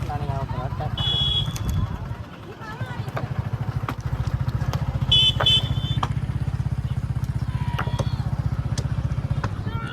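Motorcycle engines idle and rev in heavy traffic on a crowded bridge, a steady rumble with passing vehicles and horn-like tones, while people talk nearby.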